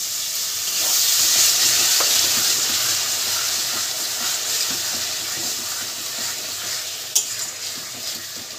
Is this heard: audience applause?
no